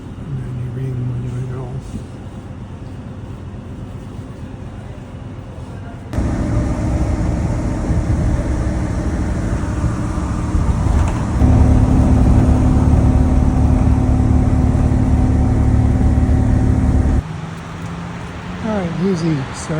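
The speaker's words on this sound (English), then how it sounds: "Alright, I just got on the next bus." Riding inside a city bus in Nagoya, the engine hum and road rumble rise as the bus pulls away, with a louder steady drone midway, interior rattles and brief quieter stretches at stops.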